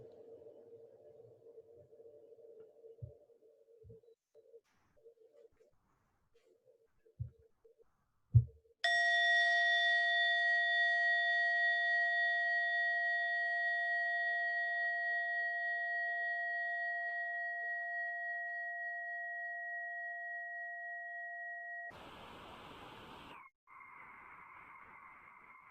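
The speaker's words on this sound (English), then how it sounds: "So we can listen to the sound of the bell." A few soft taps, then a single bell strike during a group meditation rings out with a clear, sustained tone that slowly fades, followed by a brief rustle and another soft chime.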